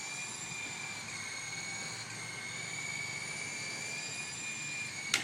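Toy remote-control helicopter flying outdoors in wind, a steady high whine from its rotor and motor that holds constant for several seconds, fairly faint, with a brief click at the end and no talking.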